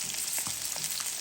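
Bitter gourd (karela) frying in a pan with green chili and salt, a steady high sizzle with a few soft stirring scrapes in one short burst.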